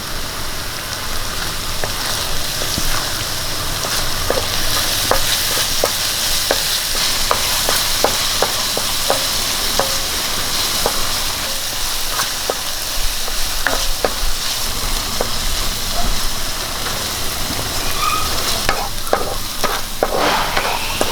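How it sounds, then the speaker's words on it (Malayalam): Chopped green chillies and curry leaves fry in hot oil for a potato curry, a loud, steady sizzle with scattered crackles and pops running throughout, close and uninterrupted with no talk. "നമുക്കൊരു മൂന്ന് പച്ചമുളക് മുറിച്ചത് ഇട്ട് കൊടുക്കാം ഇതെന്ത് കരിയാപ്പലയും ഇടാം"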